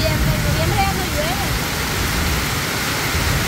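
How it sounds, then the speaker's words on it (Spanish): Steady rain falls in a continuous loud hiss, close by, with a faint voice-like tone briefly under it at the start. "Yo ya tenía días de no llover así, como ahorita."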